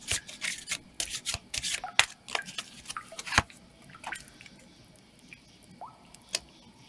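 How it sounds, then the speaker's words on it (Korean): A tarot card is drawn from the deck in a run of close, light shuffles, taps and papery flicks, busy at first and then thinning to a few isolated clicks, with no talking. "카드 한 장을 더 뽑아볼게요."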